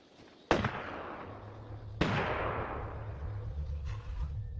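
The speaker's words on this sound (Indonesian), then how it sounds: "Andy mendengar suara tembakan bahkan sampai 4 kali" Gunshots from an execution in the film Cargo: two loud, sharp reports a second and a half apart, each trailing off in a long echo, followed by a fainter third crack.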